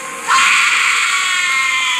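A screaming enemy character in the mobile game Grim Soul, a sustained high shrill cry that starts abruptly and holds loud and steady without break.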